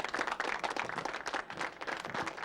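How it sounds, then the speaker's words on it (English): Audience at a comedy show clapping for a comedian, a loud, dense wash of many hands with scattered emphatic claps, sustained for a couple of seconds with no speech. "So, let's have a big round of applause for Ms. Beth Seymour."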